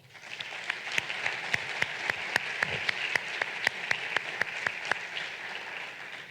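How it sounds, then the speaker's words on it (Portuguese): Sustained audience applause at a student association officers' swearing-in ceremony, a steady wash of many hands clapping at moderate level with a few sharper individual claps standing out. "Pedi uma salva de palmas para o legado desta associação"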